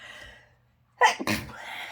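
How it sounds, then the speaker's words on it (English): A single abrupt sneeze bursts out close up after a brief silent intake, followed by breathy exhaling. "I have to sneeze"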